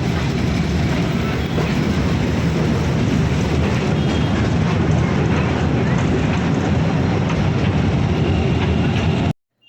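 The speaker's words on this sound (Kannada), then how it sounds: "ಟ್ರೈನ್ ಸ್ಟಾರ್ಟ್ ಆಗಿದೆ, ಹೇಗಿದೆ ಅಂತ ನೋಡೋಣ" A toy train runs in Kadri Park, Mangalore, giving a loud, continuous close rumble for about nine seconds before cutting off abruptly.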